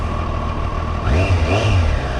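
A 2025 Triumph Street Triple 765 R motorcycle engine idles steadily, then revs up in a couple of rising and falling surges, loud and close throughout.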